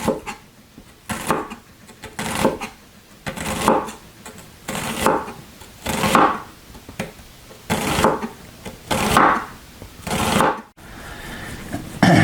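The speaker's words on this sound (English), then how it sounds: "So basically we're only probably going to need about half an onion, and I just want to slice as thin as possible." Half an onion is sliced as thin as possible with a knife, giving a close series of rhythmic swishing cuts that land on the board in steady bursts, with no voices.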